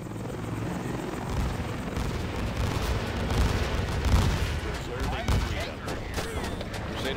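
Rotor thrum of an American helicopter gunship in C&C Generals Zero Hour with a Middle East conflict mod, a steady loud drone mixed with gunfire and booms of battle, while game voice lines speak over it.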